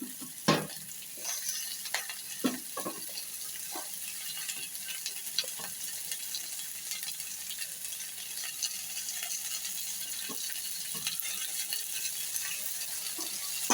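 Chopped tomatoes sauté with onions and green chillies for ragi semiya kichadi under a quiet, steady sizzle. Now and then a spoon clacks or scrapes against the pan, with a few sharper knocks near the start.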